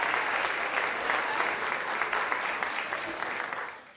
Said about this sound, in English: Let's give a round of applause to our top 50 finalists.